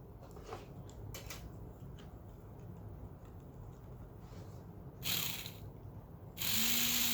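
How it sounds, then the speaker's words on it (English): The gearbox of a restored Milkyway Robot Fighter toy spins with a quiet, rapid ratcheting clatter, close by, before a couple of louder mechanical bursts near the end. "So we see how the gearbox works."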